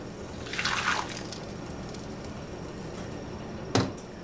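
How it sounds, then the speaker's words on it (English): Flan mixture of milk and cheese poured from a container over caramel in a baking mold, a soft liquid gush and trickle near the start, then quiet with a faint clink near the end. "I'm now going to pour that over the caramel"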